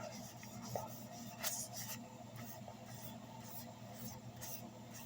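A cloth rubs Minwax gun stock finish onto a wooden hammer handle, making soft, faint, repeated scrubbing strokes close by, with no talking.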